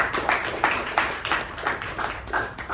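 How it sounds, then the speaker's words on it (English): A small meeting audience gives a brief round of applause, with quick clapping bursts in a loose, fairly regular rhythm at moderate distance and no speech. "A good round of applause to both the speaker and the evaluator"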